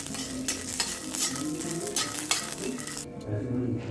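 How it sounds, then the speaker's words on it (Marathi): Peanuts, green chilies and garlic roast in oil in a wok over a low flame. A busy sizzle runs under scraping and clinking from stirring, then thins out near the end. "त्यामध्ये शेंगदाणे आणि हिरवी मिरची छान अशी भाजून घ्यायची"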